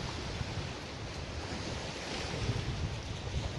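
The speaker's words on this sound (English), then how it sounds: "It's a bit windy out today, so I have to talk loud sometimes." Steady outdoor wind gusting over a microphone beside Loch Durg, a broad, loud, constant roar without pauses and no voices.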